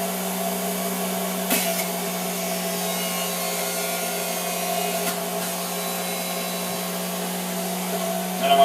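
A Big Boss juicer motor hums steadily while juicing cut apples, a constant close electric drone with a few faint bumps and no speech.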